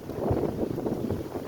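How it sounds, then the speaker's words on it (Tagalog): Strong wind buffets hard with gusty, uneven roaring and rumbling close to the microphone during a storm with trees swaying. "talagang malakas ang hangin"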